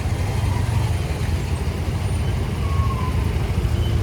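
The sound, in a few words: road traffic noise on the Khopoli to Pune ride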